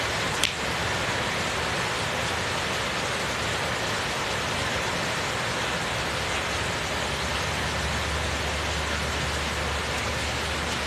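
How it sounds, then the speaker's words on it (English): Heavy rain pours down steadily and loudly, a dense, unbroken hiss of drops hitting surfaces with no voices over it. "Wow, that was quite the rain."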